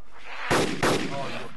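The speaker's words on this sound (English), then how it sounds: "I shot him three times in his face!" Gunfire in the survival video game DayZ: two loud, close, booming shots in quick succession within a dense, noisy game soundscape.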